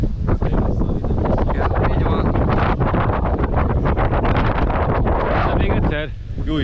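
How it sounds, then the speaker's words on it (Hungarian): Strong headwind buffeting the microphone during a canoe trip on the Upper Tisza as a storm approaches, a loud continuous roaring rumble that dominates throughout and eases slightly at the end, with people talking underneath. "olyan szembeszélve, hogy meg kellett álljunk,"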